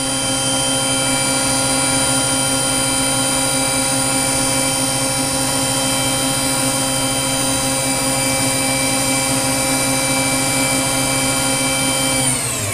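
A Star SR-20RIII CNC Swiss lathe spindle spins steadily at 8,000 RPM, a loud continuous high whine with layered tonal harmonics that holds level before beginning to wind down at the very end.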